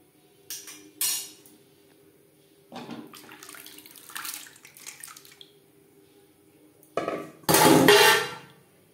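Washed masoor lentils tipped into a karahi of hot water give several splashy, clattering bursts with metal scrapes between them, ending in a louder watery pour up close, no voices.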